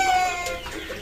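Breeder hens and roosters cluck at a poultry farm, a dense, continuous flock chatter with overlapping calls at moderate loudness and no talking.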